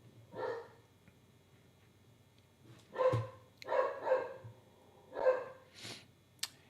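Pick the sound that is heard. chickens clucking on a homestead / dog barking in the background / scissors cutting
dog barking in the background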